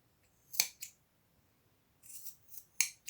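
Sharp scissor snips cutting crochet yarn for a tassel: one crisp cut, a quick follow-up, then after a quiet pause a cluster of several close, clipped snips.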